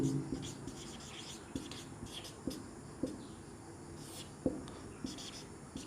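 Pen strokes scratch on paper as a maths solution is written out, soft faint scribbles with small taps in an irregular rhythm, close and quiet, with no voice in this stretch.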